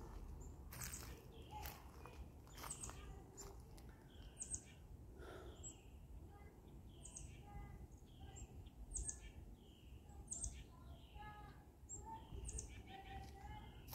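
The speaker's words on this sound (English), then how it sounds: "Sound of the birds." Birds chirp and call repeatedly, short bright notes scattered across a quiet outdoor scene over a low, steady ambient rumble.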